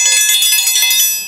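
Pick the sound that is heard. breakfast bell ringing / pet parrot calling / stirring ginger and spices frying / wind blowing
breakfast bell ringing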